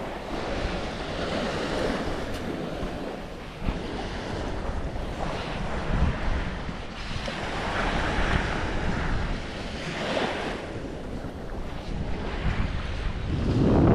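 Strong wind buffeting the microphone in loud, rumbling gusts that rise and fall, with surf-like roaring and no talking.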